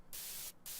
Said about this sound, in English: That's just white noise. Okay, we have white noise.